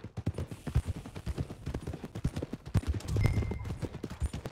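Horse hooves clip-clopping in Red Dead Redemption 2, a steady rhythmic series of close hoof strikes on the way to the stables, with a short burst of a louder sharp sound partway through.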